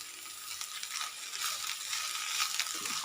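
Cooked rice tossed with spring onions in a hot pan sizzles steadily while a utensil stirs and scrapes through it in uneven strokes, close and moderately loud.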